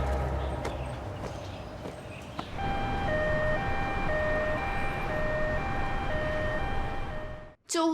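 An ambulance siren wails in a steady two-tone rise and fall, starting a couple of seconds in and running continuously over a busy background rumble until it cuts off near the end.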